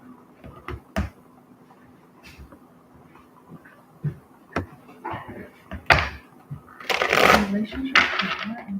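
A deck of tarot or reading cards gets shuffled in a small space, with sharp riffling snaps and quick bursts of card noise ending in a loud flurry, and a person talking quietly between them.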